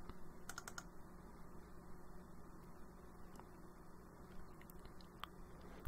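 Typing on a computer keyboard into a Linux software manager search box gives a few scattered, faint key clicks over a low electrical hum, with no talk.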